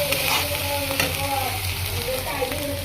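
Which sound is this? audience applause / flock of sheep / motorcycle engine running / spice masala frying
spice masala frying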